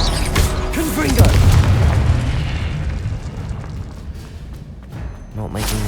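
A Confringo blast spell explodes in the Hogwarts Legacy video game, a loud deep boom that rumbles and decays over several seconds with a smaller burst near the end, mixed with game effects.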